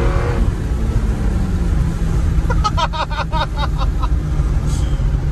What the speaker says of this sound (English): it is crazy how much I miss the sound of this engine.